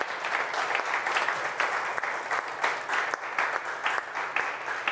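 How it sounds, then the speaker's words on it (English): Conference audience at a tech event giving a warm round of applause to three panelists, dense steady clapping from a large room, moderately loud and continuous without talk. "can we give them a really warm round of applause,"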